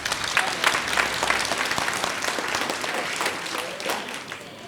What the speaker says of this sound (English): give yourselves a hearty round of applause.